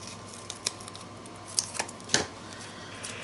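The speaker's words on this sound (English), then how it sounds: "We are going to cut this apart." Scissors snip through paper in a few short, sharp, separate cuts, close and quiet, with no one talking.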